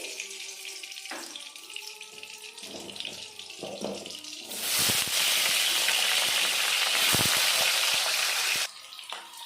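Potatoes drop into hot mustard oil in a pan, followed by a loud, close, steady frying sizzle that runs for several seconds after a few quieter clatters and then falls away abruptly.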